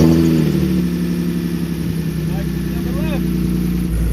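A right-hand-drive BMW E46 car idles after being started following six months sitting unused, a steady low rumble holding evenly throughout with a faint voice over it.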